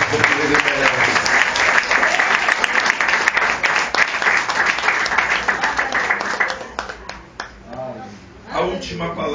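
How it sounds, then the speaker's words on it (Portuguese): A church congregation claps and applauds, loud and dense at first and then thinning out, with a preacher's voice heard over it toward the end. "Dê uma salva de palmas para Jesus, porque Ele merece."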